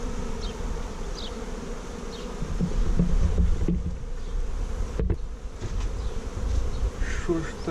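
Honey bees buzz in a dense, steady drone close by, a continuous swarm hum that rises and falls slightly throughout.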